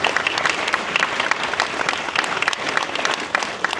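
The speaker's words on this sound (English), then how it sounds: "So please give a large round of applause for these folks." Audience applause at a film Q&A for the 50th anniversary of The Texas Chainsaw Massacre, a dense, sustained clapping from a large crowd.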